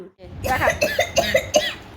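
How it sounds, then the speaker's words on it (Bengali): A boy coughs several times in quick succession, close and fairly loud, with short rough bursts that run into one another. "তোর কাশি হচ্ছে"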